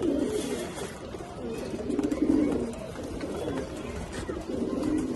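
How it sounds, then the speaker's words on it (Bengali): Low, soft cooing of jabra pigeons repeats in a steady murmur, several birds overlapping at close range with a faint hum of background noise. "অনেকে জাবরা কবুতর পছন্দ করেন।"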